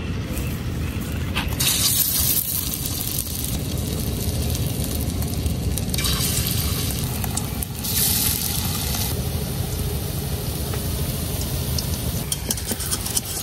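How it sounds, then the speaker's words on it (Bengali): Taro flower fritters fry in hot oil in a wok, a loud, steady, close hiss and crackle of bubbling oil that fills the whole stretch with no talking. "এখন আমি বড়ার শেপ করে এই যে এরকম দেয়া তেলে বাইজা নিলাম।"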